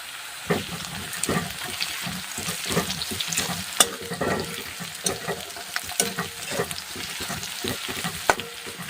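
Curry leaves dropped into hot oil for savoury rava upma sizzle and crackle up close, with repeated stirring scrapes and clatters of a spoon in the pan.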